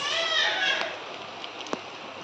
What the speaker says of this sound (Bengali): বাইরে হচ্ছে বৃষ্টি আর আমি এখানে বানিয়েছি প্যাটিস